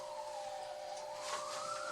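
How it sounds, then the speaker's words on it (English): A distant ambulance siren wails faintly outside, its rising and falling tone steady across two seconds under a background hiss, with no talking. "Ambulance is going everywhere."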